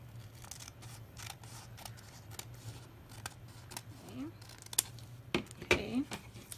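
Scissors cutting paper trim for a Dollar Tree DIY farmhouse meal planner board, several close, sharp snips scattered among soft handling noises while someone talks.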